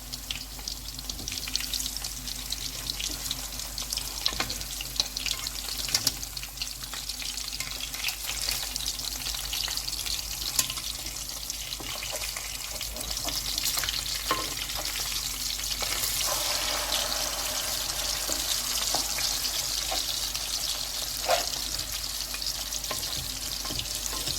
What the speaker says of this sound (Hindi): ये इसी तरह से फ्राई कर लेंगे।